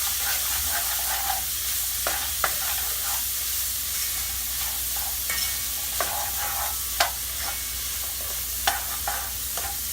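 A spoon stirs seasoning through a pot of arroz con gandules over a steady low sizzle, with intermittent scraping sweeps and a few sharp clanks against the pot.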